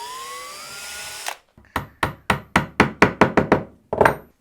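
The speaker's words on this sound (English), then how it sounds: "He's going to drill a hole" A power drill boring a hole through cardboard for toy axles, with a short whirring run followed by a rapid series of about nine sharp rhythmic bursts, close and loud.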